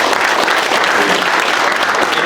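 Dense, steady applause from a conference audience at a tile industry event fills the space, loud and continuous without pause.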